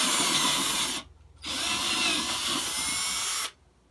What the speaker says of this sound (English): So the reamer cleared all the way through and did what it's supposed to do.